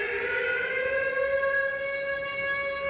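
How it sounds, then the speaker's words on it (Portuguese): A civil-defense siren sounds at a memorial for the victims of the July 1994 terrorist bombing of the AMIA Jewish mutual association building in Argentina, a steady, loud, unbroken tonal wail held without pause. "a sirene que relembra o momento do ataque começou a soar"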